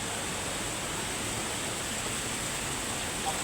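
Steady, dense rush of flowing river water fills the whole clip at an even level, with no voices.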